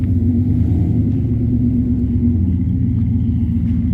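A deep, steady exhaust rumble from an idling shop truck with a MagnaFlow catalytic converter and Flowmaster Super 40 muffler, low and throaty, continuous and fairly loud throughout.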